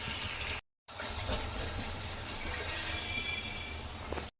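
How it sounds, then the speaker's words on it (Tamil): Water gushes steadily into a cooking pot of onions for chicken curry, a loud, continuous pour with a brief pause near the start before it resumes. "இப்போ நம்ம தண்ணி ஆட் பண்ண போகிறோம் தேவையான அளவு."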